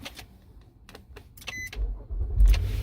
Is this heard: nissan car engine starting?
yes